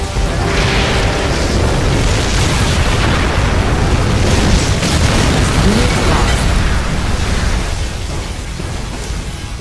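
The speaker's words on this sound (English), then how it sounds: "Particle cannon activated." A loud, sustained roaring blast with crackling bursts from a particle cannon in the video game Command & Conquer Generals Zero Hour rumbles on for several seconds, then slowly eases off.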